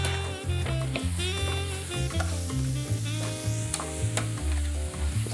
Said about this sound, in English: Now we're gonna take the rice Dump the rice right in.